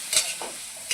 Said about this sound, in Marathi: याला सारखं हलवत राहायचं, नाही हलवलं तर खाली चिकटलंय